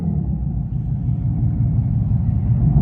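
A steady low rumble like an idling gas car plays through an electric car's speakers as a fake exhaust sound. It is loud and even, with no talking.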